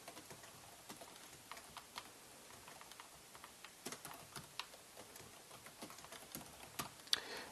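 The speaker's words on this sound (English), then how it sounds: "So I'm going to type some names." Keys tapped on a computer keyboard while names are entered, a quiet, uneven run of light clicks and taps with no voices.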